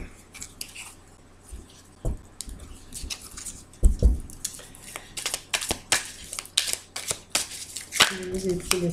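Tarot cards being cut and shuffled by hand: a close run of crisp snaps and papery riffles, irregular at first and then coming in quick, steady bursts toward the end.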